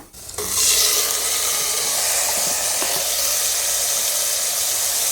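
Mutton stirred into browned onions in a hot pan sizzles steadily and loudly, a dense frying hiss with scraping stirs, close and continuous throughout.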